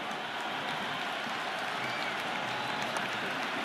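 A dense, steady roar from a cricket stadium crowd at an IPL match between Mumbai Indians and Kolkata Knight Riders, broad and continuous with cheering and applause washing through for the whole stretch.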